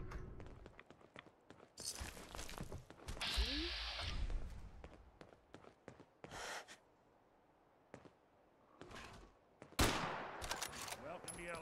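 A New Vegas weapon firing in Fallout 4: sharp, separate gunshots and short bursts spaced irregularly, with quiet gaps between them and a loud blast near the end.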